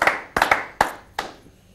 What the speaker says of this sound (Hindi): तो आप जोरदार तालियों के साथ स्वागत करें प्रवीण शुक्ल साहब का।